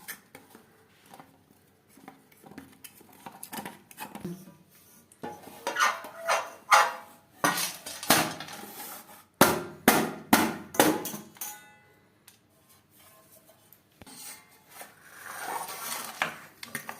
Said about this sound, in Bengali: একটা ছুরির সাহায্যে 4 সাইডটা ছাড়িয়ে নেব।